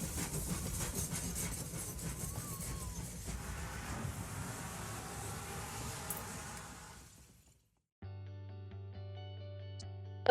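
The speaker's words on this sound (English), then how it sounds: "the sea breeze mixed with the hum of diesel engine as we rolled along the Swan Bay" Diesel heritage train rolling along the Bellarine Railway by Swan Bay, a low rumbling engine and wheel noise that fades out gradually, followed by soft music.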